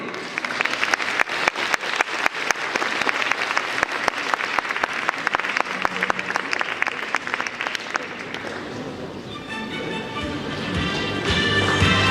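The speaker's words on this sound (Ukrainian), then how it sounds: "то ще більше овації та оплески" Sustained applause from a concert audience at an anniversary celebration for a university department, dense clapping that carries on steadily before thinning out, with faint music or sound emerging at the end.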